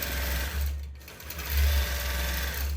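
A Gammill longarm quilting machine stitches an edge-to-edge quilt, a steady close mechanical whir with a fast repetitive needle rhythm that dips briefly and then resumes.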